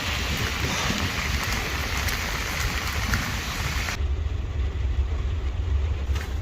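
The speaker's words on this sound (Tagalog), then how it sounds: "Tapos ngayon bigla na lang umulan." Steady rain pours down in a dense, continuous patter, loud and close, with a rumbling low background.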